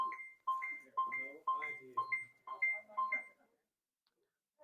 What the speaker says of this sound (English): Kevin, what's beeping?